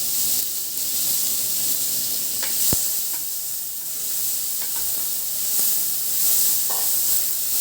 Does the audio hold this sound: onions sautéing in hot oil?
yes